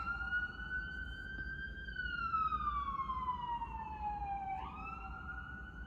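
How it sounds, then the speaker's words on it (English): An ambulance siren sweeps past with a steady descending wail, fairly faint and continuous, with its pitch dropping as it passes and a brief jump near the end, heard alone without speech. "don't mind the ambulance."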